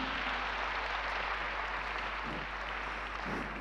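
An audience at the Armenian National Youth Forum applauds, giving a steady, dense wash of clapping from a large hall crowd that stays even throughout.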